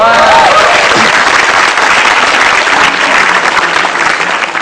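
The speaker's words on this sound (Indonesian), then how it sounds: "Tepuk tangan boleh." Loud, sustained applause fills a stand-up comedy show audience, thick and continuous clapping with a brief voice at the start that then fades into the crowd noise.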